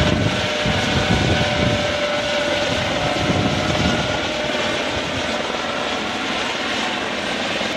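A Eurocopter EC120 Colibri helicopter's engine and rotor roar loudly and continuously, with a steady chopping throb close by and no voices.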